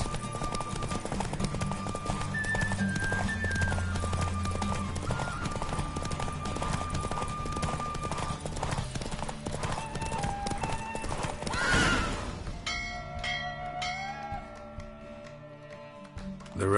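A horse gallops during a race in The Witcher 3, rapid rhythmic hoofbeats pounding under a game music score, with a loud neigh near the end as the pace breaks off.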